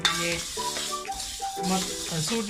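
Curry leaves stirred and frying in a hot pan with spices for a Jaffna-style spice powder, a steady close sizzle with scraping stir strokes throughout, with no talk.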